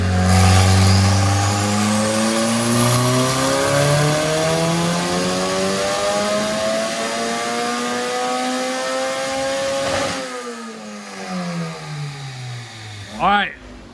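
A K-swapped Porsche running a turbocharged Honda engine revs hard on a dyno, pitch climbing steadily through a long pull before dropping off, followed by a couple of quick sharp blips; voices mix in over the loud engine.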